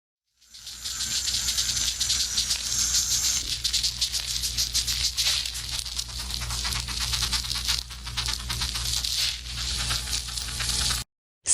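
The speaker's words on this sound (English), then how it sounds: "But if one of the ants in the queue gets into an accident, they change the sound like this." Ants change their sound after one in the queue has an accident: a rapid, rasping rattle of tiny clicks pulses continuously for about eleven seconds, busy and close, then cuts off abruptly.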